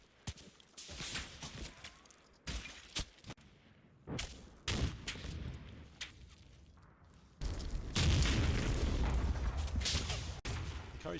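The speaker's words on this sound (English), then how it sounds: "A couple of grenades are thrown over in an attempt to dislodge them." Thrown grenades burst during a Combat Mission Fortress Italy firefight at a two-storey building, heard as several sharp, fairly distant blasts scattered irregularly through quiet stretches, with a heavier, sustained rumble near the end.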